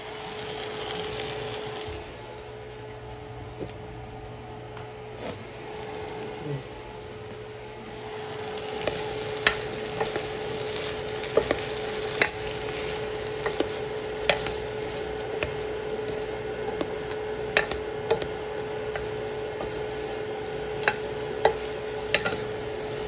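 Okra added to a pot of simmering Filipino sinigang, a soft steady bubbling and sizzle with intermittent sharp clinks and taps of a utensil against the pot, heard close with no talking.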